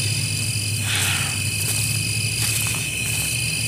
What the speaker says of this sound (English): That noise. It's crickets.